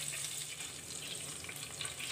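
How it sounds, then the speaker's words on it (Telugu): Vegetables, mustard seeds, cumin and garlic pieces fry in a pan for a bottle gourd dish, giving a steady close hiss and sizzle with faint bubbling, constant throughout and no voices. "ఈ మూడింటిని వేసుకొని కొంచెం ఫ్రై చేసుకోవాలి. ఇలా ఫ్రై చేసుకున్న దాంట్లో వెల్లుల్లి ముక్కలు వేసుకోవాలి."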